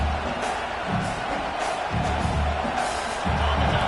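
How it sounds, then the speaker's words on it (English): A football stadium crowd roars steadily from a distance, a low, continuous wash of cheering and noise pitched against the opposing offense, with no clear individual voices. "This crowd trying to make life miserable for this offense."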